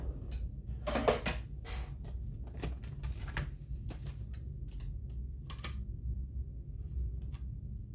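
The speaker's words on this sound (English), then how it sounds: "I'm going to go ahead and run that through the stamp cut and emboss machine" A paper label fed through a stamp, cut and emboss machine, giving a run of close clicks and clacks over a low steady mechanical hum, with quieter gaps between bursts.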